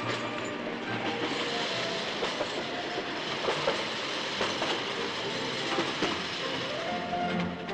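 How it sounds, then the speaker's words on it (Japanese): An electric train runs slowly along the Shichirigahama coast facing Enoshima, a rolling rumble with rhythmic clickety-clack of wheels over rail joints, moderately close and steady throughout. "江ノ島を望む七里ヶ浜沿い、のんびりと電車は走ります。"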